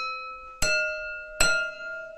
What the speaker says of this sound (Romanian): prin atingerea paharului și retragerea rapidă a linguriței veți obține acel sunet